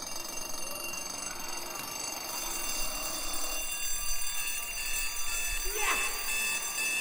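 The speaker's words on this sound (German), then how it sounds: "dann holen wir einfach für jeden Musiker einen Wecker und dann werden die alle wach" Several alarm clocks ring together in a steady, bright metallic jangle that fills the whole stretch at moderate loudness, with voices briefly heard partway through.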